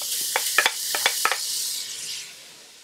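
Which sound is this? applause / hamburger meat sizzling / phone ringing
hamburger meat sizzling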